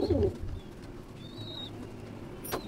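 A Mantrasi pigeon coos in a loft, a short low burst at the start and then quieter cooing over faint background chirps, with a brief bright sound near the end.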